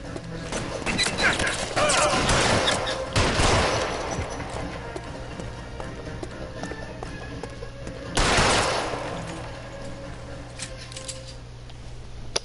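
Gunfire in the L.A. Noire video game comes in rapid bursts of shots, one heavy volley early and another sharp burst later, standing out over a low steady game background.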